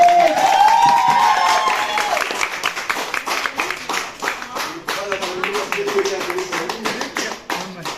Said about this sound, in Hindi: सो एक बार फिर से जोरदार तालियां हो जाए फॉर 500 एपिसोड